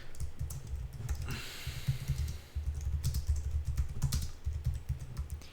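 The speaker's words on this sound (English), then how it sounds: "Don't worry, he's typing" Fast typing on a computer keyboard, with dense, irregular key clicks that continue steadily from close range with only brief pauses, over a low background hum.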